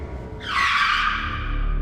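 A car skids to a halt, a loud, sustained high tyre screech rising suddenly and holding for over a second over a low engine rumble.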